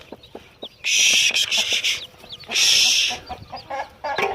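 A hen clucks repeatedly while tending chicks, the clucks loud and close, with two longer bursts of bright high squawking or peeping.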